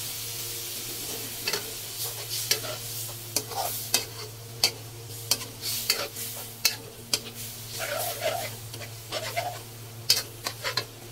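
Coconut milk simmers with stingray in a pan for ginataang pagi while a spoon stirs it, giving repeated scraping and clinking strokes over a low bubbling sizzle, close and clear with no voices.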